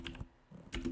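Quick bursts of keystrokes on a computer keyboard, two short clusters of clicky taps separated by a brief pause, close and clear with no voices.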